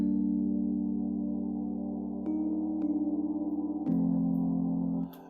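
A dark string-like synth pad holds a simple root-and-fifth chord for an amapiano track, sustaining a smooth, warm tone that steps to new pitches a few times before cutting off.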